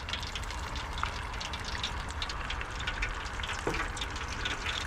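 Fish fries in a pan with a steady crackling sizzle that runs throughout, broken by faint occasional clinks and no voices.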